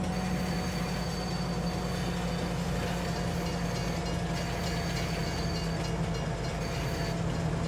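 A custom train in Farming Simulator 22 rolls past a fill point, its steady rumble and faint rail hum continuous and fairly close, with a thin high whine running through, no talk.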